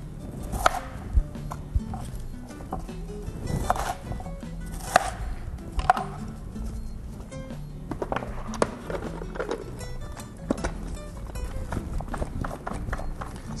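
Tupperware hand pull chopper cutting cabbage for coleslaw, irregular clacking and thumping chops with plastic rattles, moderately close, repeated in uneven bursts.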